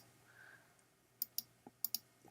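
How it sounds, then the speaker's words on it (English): Computer mouse clicked while drawing in SketchUp, a series of about five sharp, close clicks spaced irregularly in the second half, otherwise quiet. "So I'm just clicking where I want it to go"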